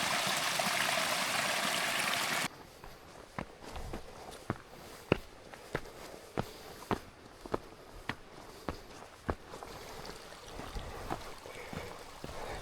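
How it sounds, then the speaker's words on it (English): A small seasonal mountain stream, fed by snowmelt where the Cascade Mountains meet the sea, rushes loudly close by at first, then gives way to a quieter outdoor scene punctuated by a steady series of crisp, evenly spaced footsteps or clicks. "Here's another little stream."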